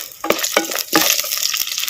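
Garlic cloves and green chilies hit hot oil in a pan for a village-style pond fish curry, crackling and sizzling steadily up close with a few sharper stirring scrapes and pops.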